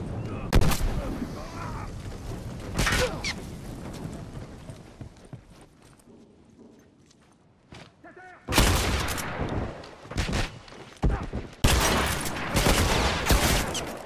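Shotgun blasts and other gunfire from a multiplayer match of The Last of Us Remastered, loud bursts clustered at the start and again in the final seconds, with a quieter stretch of game ambience between.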